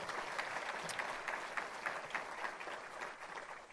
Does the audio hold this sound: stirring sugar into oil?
no